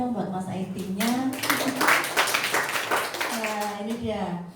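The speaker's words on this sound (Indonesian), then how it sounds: "tepuk tangan dong" Audience clapping at an event, a sustained patter of applause running under a loud voice speaking throughout.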